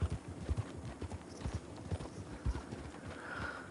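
A large horse galloping in the video game Red Dead Online, rapid rhythmic hoofbeat clip-clops close and steady throughout, with no talking over it.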